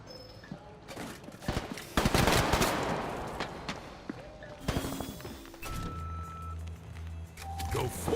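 Rapid automatic gunfire in the video game Combat Champions, with dense bursts of shots and thuds that swell and fade over several seconds beneath in-game radio chatter and voices.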